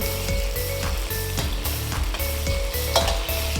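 Tofu sizzles steadily in hot oil, with a repeated scraping, clicking rhythm of stirring throughout.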